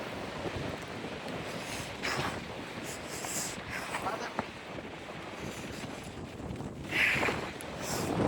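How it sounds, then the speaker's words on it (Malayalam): Strong gusting wind on a seaside cliff buffets the microphone with a low, rumbling roar, surging louder in bursts, while faint voices can be heard beneath it. "ഭയങ്കര കാറ്റ്"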